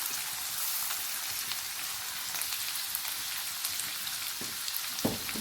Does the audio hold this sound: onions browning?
yes